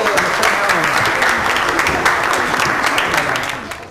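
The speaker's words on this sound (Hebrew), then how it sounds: "מחיאות כפיים." Dense group applause from an audience at a children's quiz about Rabbi Neria, steady and loud throughout before thinning slightly at the end.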